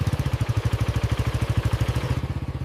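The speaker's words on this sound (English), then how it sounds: "the engine is making a strange noise now" A motorcycle engine making a strange noise runs close by with an even, rapid chugging pulse, loud and steady, and fades slightly toward the end. No one speaks.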